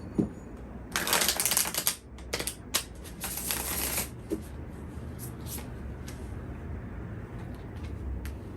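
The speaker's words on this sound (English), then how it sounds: "Last shuffle." Tarot cards being shuffled, several quick riffling bursts of papery flutter in the first few seconds, close and fairly quiet, then softer card handling and light taps.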